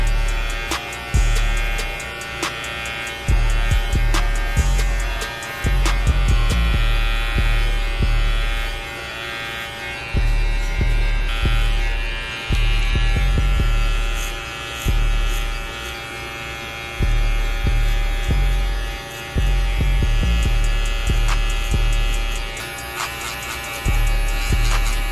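Electric hair clippers fitted with a number 1 guard buzz steadily through a self-administered buzz cut, the motor tone pulsing in short repeated strokes as they pass over the hair, close and continuous without speech.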